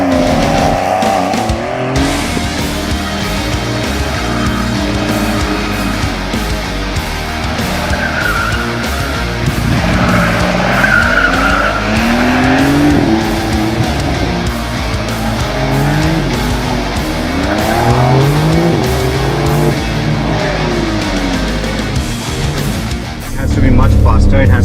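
A Porsche on a racetrack roars loudly and close throughout, its engine note rising and falling through shifts, tires squealing under hard braking near the end, with a driver's voice over it.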